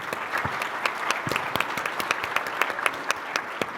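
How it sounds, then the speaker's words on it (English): Applause from an audience at a supermarket-industry conference educational session on produce, a steady patter of many hands clapping with distinct sharp claps standing out, sustained evenly for several seconds. "So give yourselves a round of applause."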